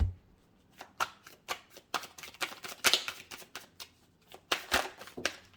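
Tarot cards are shuffled and drawn by hand in a series of sharp, papery riffles and slaps, irregular and close, with no talking.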